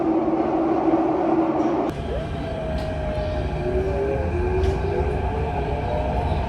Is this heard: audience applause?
no